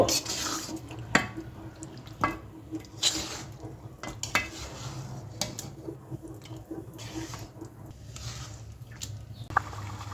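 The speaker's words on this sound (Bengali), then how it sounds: "চিকেনগুলোকে মশলার সঙ্গে মিশিয়ে কষিয়ে নেব" Chicken stir-fried with spices in a pan for a Bengali chicken roast: irregular metal scrapes and clinks of a spatula, with a faint background sizzle and hum, close and moderately quiet.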